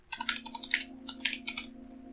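Close, quick typing on a computer keyboard, a rapid run of light key clicks over a steady electrical hum.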